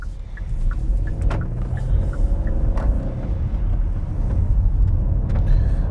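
A 2021 Hyundai Kona N Line with a 1-litre three-cylinder turbo petrol engine drives along, its low engine rumble and road noise steady from inside the cabin.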